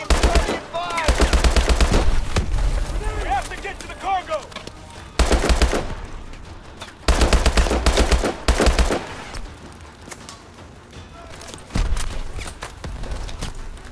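Sustained machine gun bursts in the video game Call of Duty: Advanced Warfare, loud and close, firing in several long strings separated by short pauses, with quieter game sounds in between.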